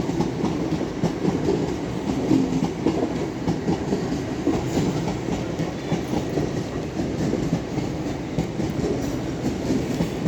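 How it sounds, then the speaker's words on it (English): LNER class 801 Azuma unit 801214 pulls out of Doncaster station on the East Coast Main Line, a steady loud rumble of wheels and traction with rhythmic clickety-clack over rail joints, continuous throughout with no voices. "And now departing is 801214 with the 1411 LNER Zoomer to Edinburgh Waverley."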